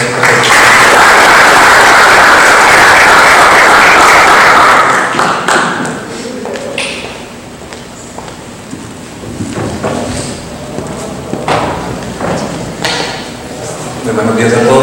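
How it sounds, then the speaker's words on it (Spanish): Loud audience applause at a talk on soil in wetlands of international importance, dense and continuous for about five seconds before fading into scattered claps, knocks and low murmuring. "Le damos un aplauso a don Diógenes para que nos haga su presenta"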